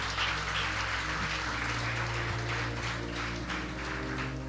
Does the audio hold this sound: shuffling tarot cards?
no